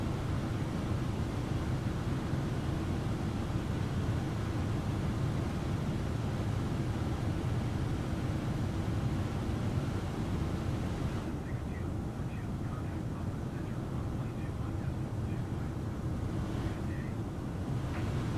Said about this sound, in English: Those are engines. Oh, they sound good.